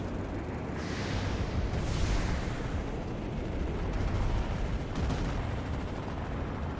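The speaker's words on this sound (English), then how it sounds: "there's AA turrets all around here. There's anti-vehicle turrets." Anti-aircraft turrets in a PS4 game keep up a dense, rumbling barrage of heavy gunfire and booms at middling distance, with a couple of louder whooshing blasts among the continuous roar.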